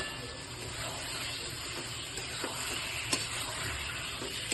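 Goat mutton fries in a pan of oil with Kashmiri chili powder, making a steady, moderately soft sizzle with a few light clinks and stirring sounds and no talk.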